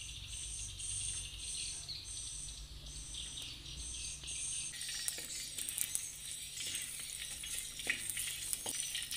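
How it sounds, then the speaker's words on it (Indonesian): Two crushed garlic cloves frying in hot oil, a soft, continuous high sizzle and crackle that holds steady and grows a little brighter partway through, heard alone without talk. "Saya masukkan 2 siung bawang putih ya. Digoreng sebentar ya."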